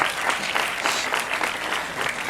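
Loud, dense applause from a student debate audience greeting the chief judge, a continuous crackle of many clapping hands with faint rhythmic pulses and no speech.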